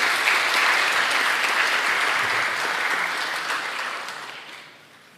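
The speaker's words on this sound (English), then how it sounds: "Could you give him a round of applause as he makes his way up?" Loud, dense applause from an audience at a scholarship award event as the winner walks up, a continuous roar of clapping that holds steady and then fades away over the last second.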